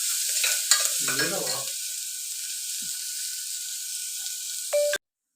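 Onions and garlic frying in a pan for plain onion rice, a stirring scrape near the start over a steady sizzle that keeps going alone until a brief clatter at the end.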